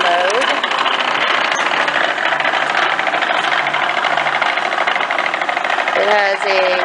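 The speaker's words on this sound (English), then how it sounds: "Famco shear, 8-foot, 14-gauge capacity." A Famco 8-foot, 14-gauge power sheet metal shear runs with a loud, steady motor drone and mechanical hum that holds without a break throughout, with a brief shift in tone near the end.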